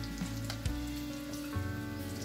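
Food sizzles on a hot grill heading toward 600 degrees, a steady close crackle and hiss with a couple of soft thumps as pieces are set down, no voices.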